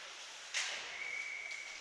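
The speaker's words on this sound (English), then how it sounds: "And we'll get a whistle." A referee's whistle at a U14 AAA youth ice hockey game sounds one sharp, sustained high blast that carries on steadily through crowd and rink ambience, with a faint second chirp near the end.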